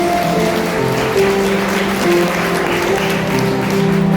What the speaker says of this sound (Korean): 반지가 끼워줄 때 여러분 박수로 함께 축복해 주겠습니다